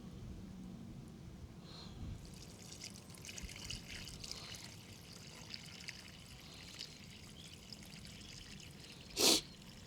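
Water sloshes and pours steadily out of a gold panning container carrying sand, a continuous wet trickle close by, ending with a brief sharp splash.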